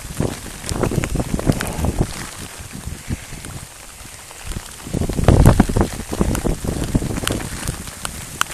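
Rain during a thunderstorm in Alberta, pattering and gusting against the microphone in uneven bursts, close and rough with wind noise, without talk.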